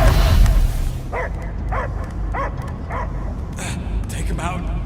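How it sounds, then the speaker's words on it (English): A dog barks several times in a steady rhythm with short yips, over a low rumbling background, following a brief stretch of muffled noise, in the video game Marvel's Guardians of the Galaxy. "I hear only barking."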